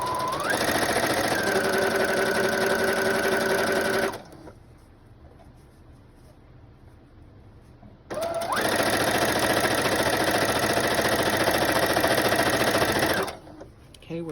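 A sewing machine stitches a fabric book bag handle in two long, steady whirring runs of about four seconds each, separated by a quiet pause, loud and close with no voices.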